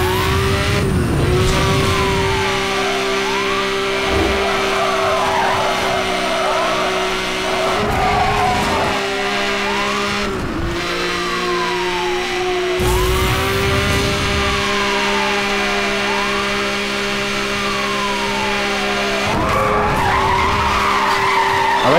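Cars racing in Need for Speed Hot Pursuit Remastered, loud engines roaring and revving continuously while tires squeal in repeated long skids, with sweeping pitch changes as the cars corner and accelerate.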